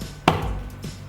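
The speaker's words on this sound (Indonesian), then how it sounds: "Kalau bagaimana kalau dua jari ibu pukulkan ke meja?" A single sharp tap of two fingers striking a tabletop, one clear knock followed by a faint second tap a moment later, close and alone with no speech.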